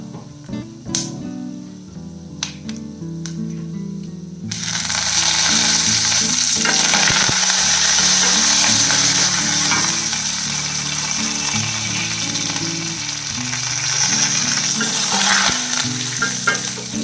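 Chana dal, cumin seeds and curry leaves hit hot oil and burst into a loud, steady sizzle that holds for over twelve seconds, after a few clinks and light stirring sounds in a quieter pan.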